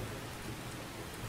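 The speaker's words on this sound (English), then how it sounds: "all I heard was the sound of raindrops on umbrellas" Steady rain patters on umbrellas at a small graveside gathering in Seduce Me the Otome, a dense, even hiss of drops with no pauses and no voices.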